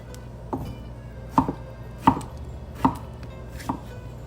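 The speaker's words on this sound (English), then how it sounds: "we're gonna chop these guys up and remove where the branch was" A knife chops fresh green beans into chunks on a cutting board, five sharp, evenly spaced knocks about once every 0.7 seconds, close and clear with no talking.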